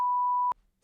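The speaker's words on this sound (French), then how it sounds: "On va espérer que le bip s'est bien mis." A single censor bleep, a steady pure tone held for about half a second and cut off abruptly, then near silence.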